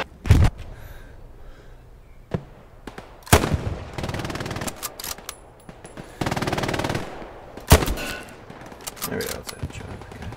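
Bursts of automatic and single-shot gunfire in the video game Hell Let Loose, sharp and loud, scattered across the scene with short pauses, while a player talks between shots.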